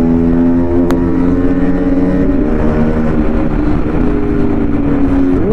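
Loud Yamaha R15 motorcycle engine droning steadily with harmonic whine, pitch dipping and climbing again as it revs up, continuous and close with no talking.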